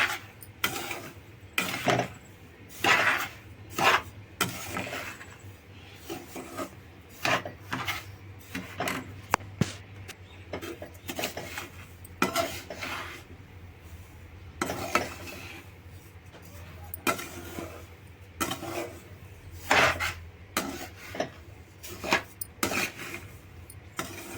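A spoon repeatedly scrapes and stirs semolina with cardamom powder in a metal pan, producing rhythmic rasping strokes close by with no talk.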